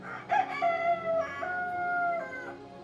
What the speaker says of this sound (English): In the distance, she could hear roosters crowing